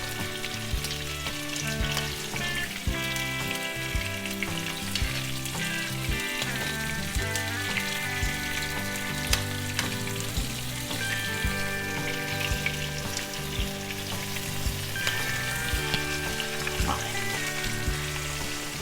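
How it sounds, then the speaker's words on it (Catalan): Steady crackling sizzle of meat slices for fricandó frying in hot oil in a pan, continuous and fairly close, with music playing underneath throughout. "l'oli està calent i comencem a fregir la carn"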